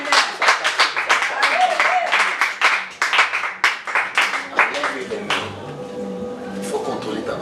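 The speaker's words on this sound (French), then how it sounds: "Tu peux acclamer très fort le Seigneur." A church congregation claps rhythmically and cheers in praise of the Lord, sharp hand claps in a steady quick beat that loosen and fade toward the end, with voices mixed in.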